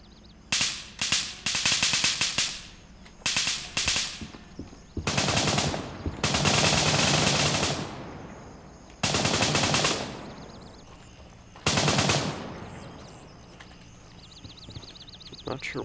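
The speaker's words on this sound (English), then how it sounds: "No, he's just shooting, okay." Loud bursts of automatic machine gun fire in the shooter game Gray Zone Warfare, several sustained volleys of a few seconds each separated by short pauses, close and dominant with no talk.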